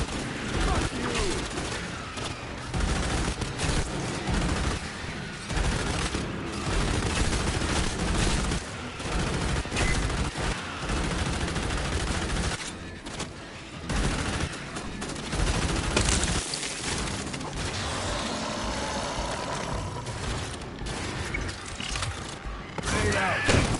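Video game gunfire from Aliens: Fireteam Elite rattles in sustained automatic bursts with booming impacts for over twenty seconds, dropping out only in short gaps.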